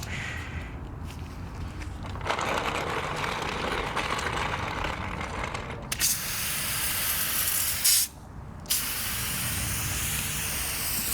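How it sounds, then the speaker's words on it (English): A pressure washer sprays Bilt Hamber Touchless V2 foam onto a car, a loud continuous hiss that cuts out in two brief pauses before resuming at full strength. "it is quite the white spray."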